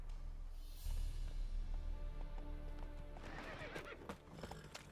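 Roach, the horse in The Witcher 3: Wild Hunt, gives a clear whinny, with hoof clip-clops before and after it and a busier scuffle of hooves near the end, all fairly close.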